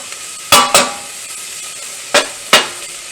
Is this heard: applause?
no